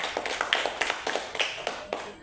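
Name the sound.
audience applause for the teacher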